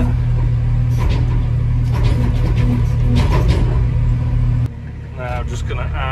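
A concrete mixer churning cement for a grain store floor, a loud steady engine drone and rumble that cuts back partway, with a person talking over it.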